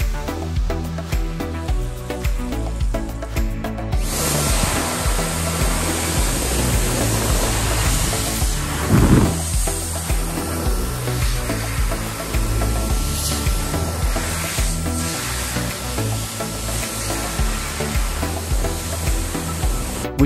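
A Dyson Airblade V hand dryer blasts air in a loud, continuous broadband rush that starts a few seconds in and holds steady to the end, alone with no voices.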